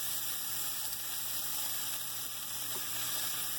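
Shrimp sear in a hot pan with a steady, close sizzle and faint background hum, continuous and even throughout with no voices.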